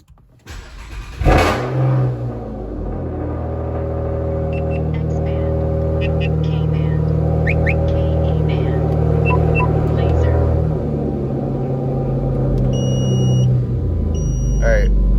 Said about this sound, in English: Let's get this cold start out of the way.